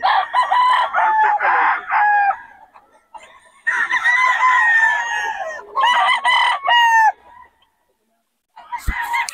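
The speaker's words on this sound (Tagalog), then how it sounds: "Mga manok." Chickens cluck and crow loudly up close in several bursts, with brief pauses between calls and a short gap near the end.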